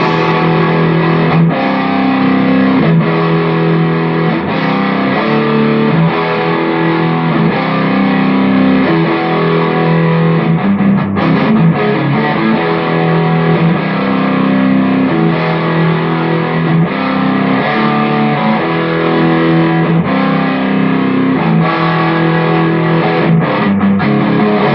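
Distorted electric guitar chords ring out through a Marshall SC20 JCM800 amp with a Legendary Tones Hot Mod V2 boost, loud sustained crunchy strums that change steadily and are played alone without talk.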